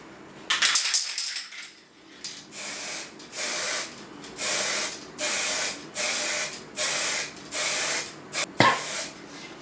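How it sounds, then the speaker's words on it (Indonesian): An aerosol can sprays developer for a dye penetrant inspection, an opening long hiss followed by seven short, evenly spaced bursts of loud, close spray hiss, with a sharp clack near the end. "Oke, sekarang kita sudah semprotkan developer ini."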